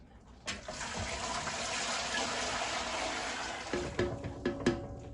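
Three quarts of water pour steadily from a pitcher into a pressure canner, a continuous close splashing rush that ends with a few clunks and drips.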